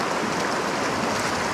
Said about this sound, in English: Right off the bat, another river crossing,